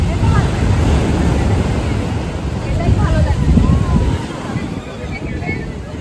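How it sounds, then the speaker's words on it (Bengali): Rough, roaring surf churns continuously, mixed with gusty wind buffeting the microphone, while a person speaks briefly over the noise. "সমুদ্র উত্তাল সমুদ্র"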